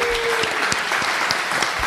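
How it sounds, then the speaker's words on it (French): Audience applause for the PodRennes team at a live public podcast recording in Rennes: a short, steady burst of clapping that stays even throughout, with a faint tone near the start. "Vous pouvez les applaudir d'ailleurs, la fameuse équipe."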